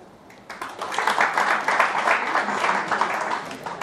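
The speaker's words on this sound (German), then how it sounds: "Kann ich mal Applaus haben?" A comedy show audience in Hamburg breaks into applause, a burst of clapping that starts abruptly, stays loud and dense, and holds steady for a few seconds.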